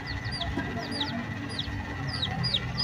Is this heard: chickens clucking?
yes